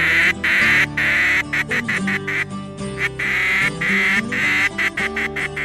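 Ducks quacking loudly and repeatedly at Potholes Reservoir in eastern Washington, several calls overlapping in quick, uneven bursts close by.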